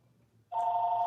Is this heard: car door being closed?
no